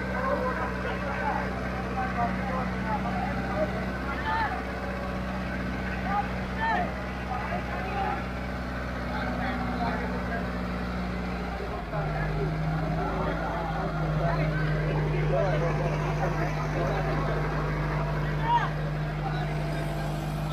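A Kubota MU5501 55 hp four-wheel-drive tractor pulls a double harrow at a competition. Its engine drones steadily, shifting to a deeper, stronger tone midway, with people talking over it throughout.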